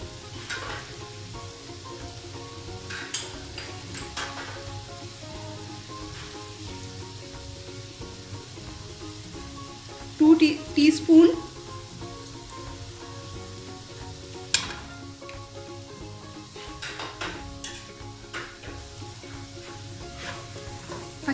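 Onions, then garlic, frying in a pan for a dhaba-style lime chicken, giving a steady, close sizzle throughout with a few louder bursts of crackling and stirring midway.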